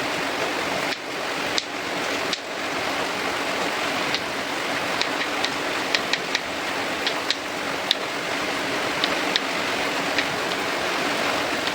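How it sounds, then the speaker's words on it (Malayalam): Heavy rain pours down steadily, making a dense, loud hiss throughout, broken by scattered sharp drips and splashes nearby. "മഴൻ്റെ ഒച്ചപ്പാടാണ് കേൾക്കുന്നത് മഴ അങ്ങോട്ട് പെയ്തിട്ട് എന്തൊരു പെയ്ജലാണോ പെയ്യണത്"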